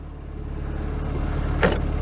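A classic Mini Clubman engine idles with a steady, close, low mechanical hum. A brief blip of throttle swells the sound for a moment near the end. No one speaks.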